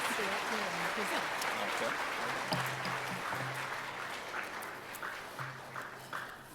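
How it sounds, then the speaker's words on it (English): An audience at an MLK celebration event applauds an award presenter walking up. The clapping is fairly faint and blends with crowd murmur and a few voices, then slowly fades. "Please give a huge round of applause for the infamous Julie Boyle."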